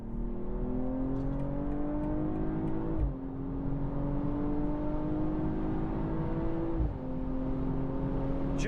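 A BMW M240i xDrive G42 coupe with 374 horsepower pulls hard on the autobahn from 100 to 200, its engine note climbing steadily inside the cabin with two brief dips at the gear changes before rising again.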